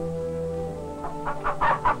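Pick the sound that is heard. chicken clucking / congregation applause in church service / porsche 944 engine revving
chicken clucking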